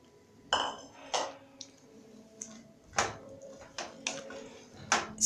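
A spoon knocking and clinking against a cooking pot while yellow beans stew is stirred, with scattered sharp taps spread irregularly over several seconds at moderate volume, no talking.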